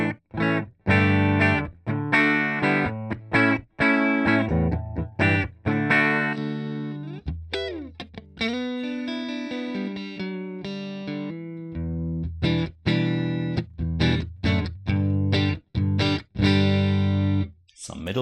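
Distorted electric guitar through a modeled Fender Super Reverb amplifier and cabinet plays choppy strummed chords and a sustained bent lead line, loud and up close with amp-like reverb.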